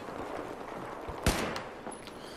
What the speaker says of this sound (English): I'm constantly accidentally shooting my gun.